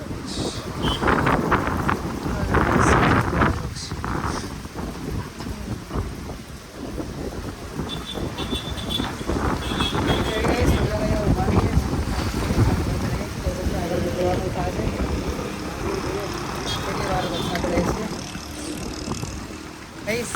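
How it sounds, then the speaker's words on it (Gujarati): Strong wind roars and buffets the microphone during a night windstorm while rain pours steadily, with gusts surging and easing and occasional voices faintly underneath. "વાવાઝોડું ને વરસાદ ચાલુ થઈ ગયો જો."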